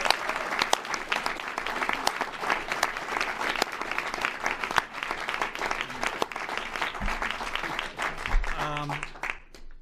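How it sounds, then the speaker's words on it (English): At The Office finale table read, a large room of cast and crew applauds in a sustained burst of clapping with scattered cheers, fading near the end as a voice begins speaking. "let's get one big round of applause and thanks as one championship team"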